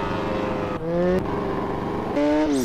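Yamaha XJ6 Turbo motorcycle engine running close by, its pitch shifting up and down through revs and gear changes, loud and steady with no talk.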